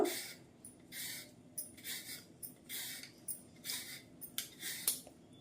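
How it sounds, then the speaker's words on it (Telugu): Knife slicing peeled fresh carrots into pieces on a board for carrot custard payasam, a steady series of crisp, quiet chops about two per second, close and alone. "ఇప్పుడు ముక్కలుగా కట్ చేసుకుందాం"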